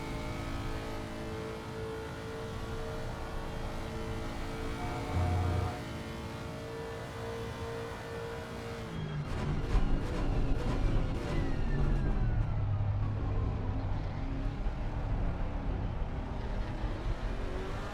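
Porsche race cars racing at Spa in a racing video game, with engines droning steadily, then a louder passing roar and revving midway through.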